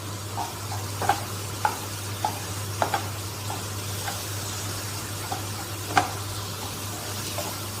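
Masala powder and kasuri methi sauté in a pan for paneer bhurji, a soft continuous sizzle under a low hum, with regular light taps and scrapes of a spoon stirring.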